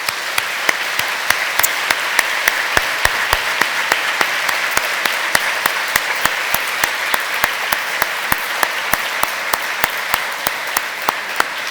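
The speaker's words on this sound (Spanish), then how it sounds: "Demos un aplauso fuerte a la palabra del Señor." A church congregation claps loudly in a steady, rhythmic beat, sharp even hand claps repeating at a regular pace over a continuous bed of crowd applause.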